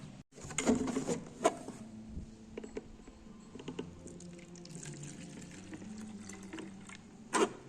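Boiled liquid being poured into a bottle, a faint trickling and gurgling stream with occasional clinks and handling knocks, plus a louder knock near the end.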